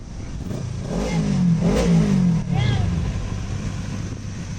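A powerful Lamborghini V10 engine revs up and down loudly in Mumbai traffic, its pitch rising and falling over steady background rumble, with a voice faintly underneath.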